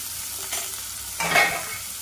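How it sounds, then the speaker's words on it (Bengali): Coriander, turmeric and chili powders with ginger-cumin-garlic paste fry in a pan for a banana vegetable curry; a soft sizzle is broken by a couple of short scraping stirs. "ভালোভাবে মশলাটা আমি একটু কষিয়ে নেব"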